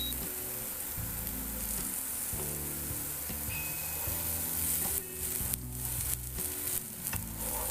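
Vegetables fry in olive oil in a pan as part of a vada upma roll, a steady close sizzle with brief scraping stir sounds and small crackles.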